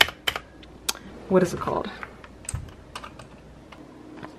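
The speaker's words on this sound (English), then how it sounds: "We have an Element keyboard, I believe." Keys clatter on an Element computer keyboard at a gaming and editing desk, irregular quick taps close to the microphone, with a voice briefly speaking over the typing.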